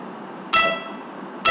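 A collect sound effect in a Scratch chaser game rings out as two bright metallic chimes, the first sustained and the second starting just before the end, over a faint background hiss.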